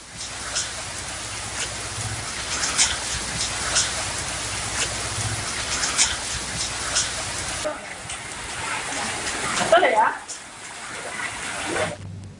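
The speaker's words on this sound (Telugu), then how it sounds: "తాండూరులో ఈదురుగాలులతో కూడిన భారీ వర్షం పడింది." Heavy rain with gusty winds pours down in Tandur, a steady broadband hiss of falling water running throughout, with a brief louder gust or splash near the end and a newsreader's voice talking over it.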